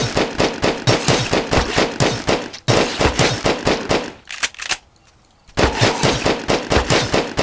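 Rapid bursts of automatic gunfire from the sci-fi game GRAV as a player shoots an insect enemy, repeated loud shots with a brief pause, then a short quiet gap before firing resumes.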